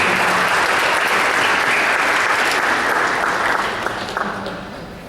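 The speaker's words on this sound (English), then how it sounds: "One more round of applause to the middle school as they are having a photo capture." An audience at a school board meeting gives middle school students a sustained round of close, dense clapping that tapers slightly toward the end.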